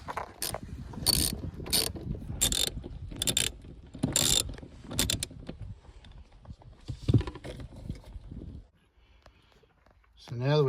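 A hand ratchet clicks in fast bursts while undoing the rear centre console bolts inside a Ford FG Falcon, loud and close, then fades to quieter fiddling and a brief scrape at the end.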